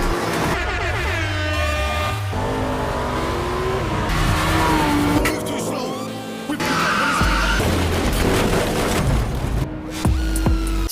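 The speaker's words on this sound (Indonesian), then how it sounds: "Tidak ingin kalah dari Mario yang hanya bermodalkan mobil bagus, Andri pun dengan cepat menyusulnya" Cars race and overtake each other in an illegal street race, with loud, continuous engine roars, revving and tire squeals layered over busy sound effects and music throughout.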